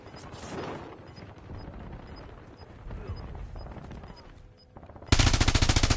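Gunfire in the Warzone video game: scattered distant shots under game ambience and radio chatter, then a loud, close burst of rapid automatic fire at the end.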